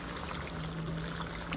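Bucket water poured onto potted plants, a steady close pour or trickle lasting the whole short stretch with no talking.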